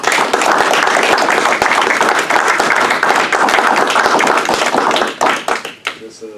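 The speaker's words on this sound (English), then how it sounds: "we can give Dr. Dunbar a round of applause real quick" A lively audience at a book signing gives a round of applause, a loud dense burst of clapping that holds for about five seconds before quickly dying away.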